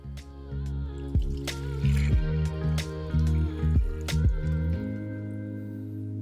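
About 1.5 litres of milk poured into a wok greased with ghee for rabri: a close, gurgling stream with splashy drips and a rising filling tone. No one speaks.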